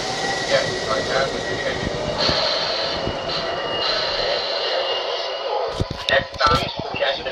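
Toy MTH model subway train of a Lexington Avenue line runs with a steady motor and rail rumble, brief clicks and rattles near the end, while a voice talks over it.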